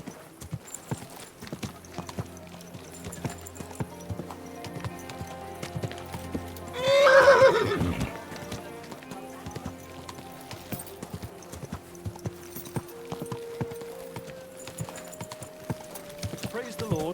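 A horse in the medieval game Kingdom Come: Deliverance II gives one loud, close whinny midway, with steady hoof clip-clops before and after, over background music.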